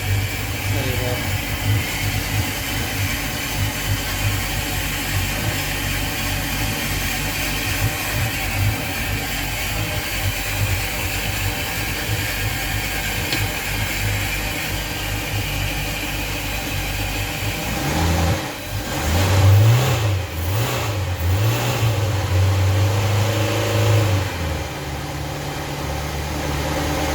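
The inboard engine of a Larson Cabrio 240 boat, low-hour and in clean condition, starts up and runs steadily at idle with a continuous mid-pitched rumble, louder bursts of revving later on, close to the microphone.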